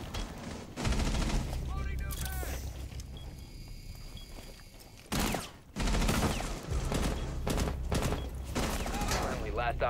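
Rapid gunfire bursts in the tactical shooter Rainbow Six Siege, dense and loud fusillades with mechanical game effects, under excited talking from a player.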